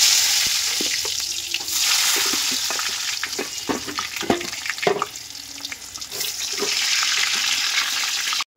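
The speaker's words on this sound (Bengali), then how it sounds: "তো বেগুন ভাজাটা বসিয়ে দিলাম" Eggplant slices coated in salt and turmeric sizzle steadily in hot oil, a continuous bright crackle with scattered pops and clinks of a utensil, close and fairly loud throughout.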